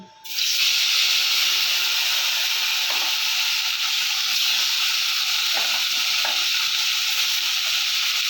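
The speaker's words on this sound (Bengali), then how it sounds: "মাছগুলো ভাজা হয়ে গেছে, তুলে নেব।" Pieces of katla fish fry in hot oil in a kadai with a loud, continuous, close sizzle and hiss that starts suddenly and holds steady.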